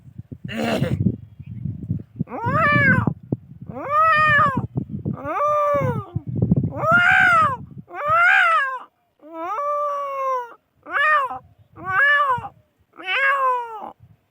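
A voice imitates a cat, giving a string of drawn-out, wavering meows one after another, close and loud, with brief pauses between.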